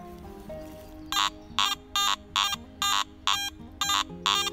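A metal detector sounding over buried iron at an old late-1800s cellar hole in the woods: a steady run of eight loud, evenly timed high-pitched beeps after a low hum, with no voice.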